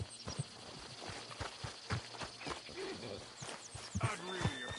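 Video game horse hooves clip-clop at a slow walking pace, distinct evenly spaced knocks on hard ground, with a faint whinny near the end.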